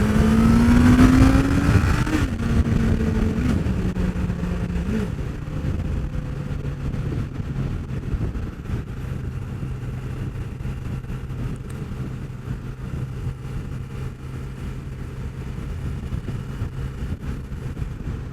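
A 2006 Suzuki GSX600F Katana with about 9k miles, ridden at speed: an engine note that drops as the revs settle into a steady cruising hum under strong wind noise.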